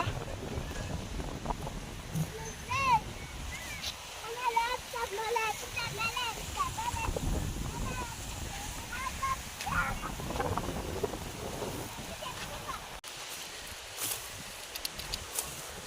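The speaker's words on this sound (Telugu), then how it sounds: "గాలి అసలు మామూలుగా రావట్లేదు ఫ్రెండ్స్" Gusty wind buffets the microphone throughout during rain in the fields, a steady roaring rumble with voices and shouts mixed in underneath.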